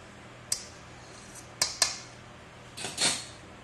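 A big metal spoon clinks and scrapes against a casserole dish holding green bean, bacon, chicken and mushroom bread pudding: a few sharp, close knocks spaced apart, then a softer scraping swish, with no talking.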